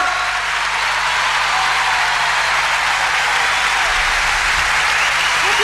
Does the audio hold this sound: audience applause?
yes